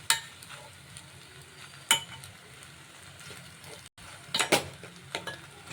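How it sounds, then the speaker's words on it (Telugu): Macaroni pasta with vegetables is stirred in a pan on a stove, with a faint sizzle and scattered scrapes and clinks of a spoon against the pan. "స్టవ్ ఆన్ చేసి కలుపుకోవాలి. ఇలా మంచిగా కలుపుకొని"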